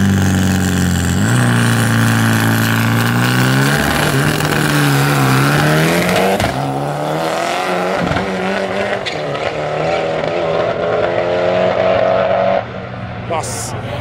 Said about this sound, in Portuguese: Pega esse Dodge acelerando, parece que vai empinar